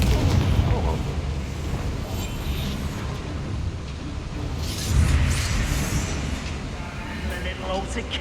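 Confringo blasting spell explosions in Hogwarts Legacy, heavy rumbling booms within a loud, dense combat soundscape, with a voice speaking over it.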